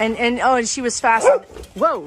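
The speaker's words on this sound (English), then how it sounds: "sorry, that's my dog" A pet dog gives a couple of yips and whimpery barks close by in a home, mixed in with someone talking over them.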